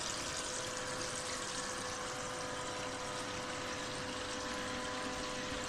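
Water sprays steadily from a spreading attachment fitted on a standard garden hose bib, a continuous broadband hiss with no pauses, fairly close and even in level throughout.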